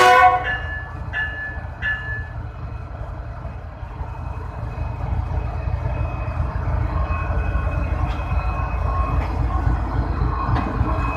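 Green Line Express coaches stand at platform 6 of a railway station while an economy class coach is being attached, with a low rumble from the train and a few sharp metallic clanks and faint beeps over a busy background.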